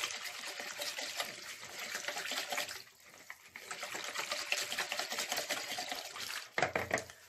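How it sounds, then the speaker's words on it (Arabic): Warm water poured over yeast, a little vinegar and granules in a bowl, then stirred, giving a soft trickle and wet mixing clatter, faint and close, with a sharper knock near the end. "غادي نزيد عليهم واحد الكاس ديال الماء دافي ونخلط هادشي كلشي مزيان"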